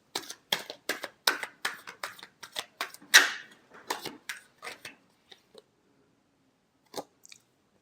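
Tarot cards being shuffled in quick riffling bursts, a steady run of crisp, close card flutters that trail off into a few scattered taps and a last soft shuffle after a pause.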